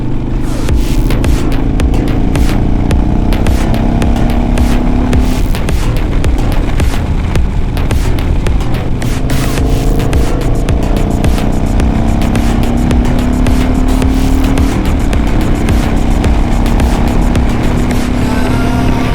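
A 23-year-old performance cruiser motorcycle runs steadily at close range, its loud, throbbing engine holding a continuous idle with slight rising revs and no talk over it.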